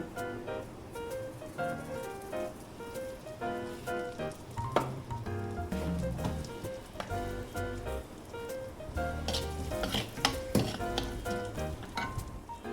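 Cinnamon, bay leaf and asafoetida sizzle steadily in hot oil, a continuous crackling fry with occasional sharper pops, heard close up under background music.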